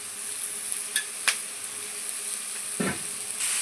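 Onions and tomatoes sautéing in a pan for chicken curry, a soft steady sizzle with a few sharp clinks of a spoon against the pan, no speech.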